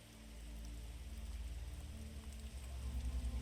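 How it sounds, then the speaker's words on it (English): Steady rain falls outside, a soft continuous patter with a low rumbling undertone that swells slightly, with no voices. "imagine that you're being told this sleep story to the relaxing backdrop of rain outside"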